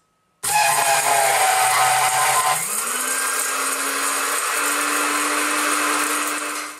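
An electric spice grinder whizzes turmeric into powder, a loud, steady motor whine starting abruptly and rising slightly in pitch as the load lightens, running continuously alone with no voices.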